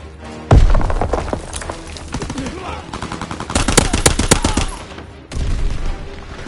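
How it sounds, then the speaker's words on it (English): An enemy aircraft's strafing run in a video game brings loud, rapid machine-gun fire in dense bursts, with heavy thuds and a sharp impact up close, under a steady battle rumble. "Enemy strafing run inbound."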